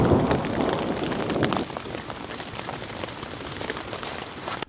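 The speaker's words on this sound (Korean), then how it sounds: "이 텐트를 단독으로 우중 캠핑 때 사용할 때 과연 비가 들이칠까?" Rain falls on a one-person tent during a rainy camping night, a dense, steady patter of drops on the fabric that is heaviest at first and then settles into a constant close hiss with scattered louder taps.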